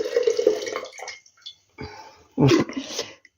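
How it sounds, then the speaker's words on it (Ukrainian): Leftover water from a half-used jar of marinated tomatoes is poured into a one-litre glass jar, giving splashy dripping pours in two bursts separated by brief quiet, close and moderately loud. "Я її от сюди у літрову баночку зливаю"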